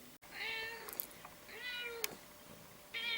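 A house cat meows indoors at night, three separate drawn-out calls spread across a few seconds, close and moderately loud with quiet gaps between them.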